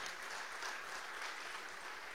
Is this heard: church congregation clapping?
yes